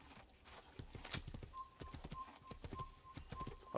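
Hooves of a horse in Assassin's Creed clop along in a quick, even rhythm, close and clear, with a light whistle-like tone drifting in the background.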